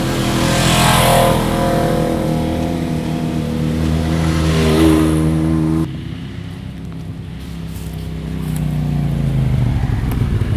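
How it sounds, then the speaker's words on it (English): A Polaris 900 XP side-by-side revs loudly on an off-road trail, its engine note rising and holding for several seconds before dropping back to a lower, rougher idle, then building again toward the end. "The Polaris 900 XP is still one of my favorite platforms, especially for the trail."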